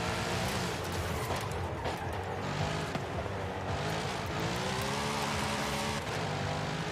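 A 2023 Chevrolet Corvette Z06 in Forza Horizon 5 drives at speed, its engine roaring steadily and loudly with rising and falling revs across the whole stretch, no voices.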